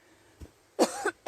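Two or three short, sharp coughs with throat clearing, close and fairly soft, preceded by a small low thump, during a relaxed guided energy-dance session.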